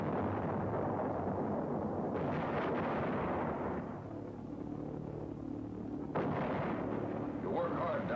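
Anti-aircraft guns firing on England's south coast in 1944 against V1 flying bombs, a heavy rumbling barrage of booms with distinct bursts, loud and continuous beneath narration.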